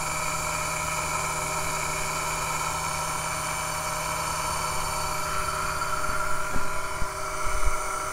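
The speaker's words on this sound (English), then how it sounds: "now this motor's running really nice, real fast" A small electric motor runs fast at a steady, even whine with a constant hum. The sound carries on unbroken and fairly loud, with a few faint clicks near the end.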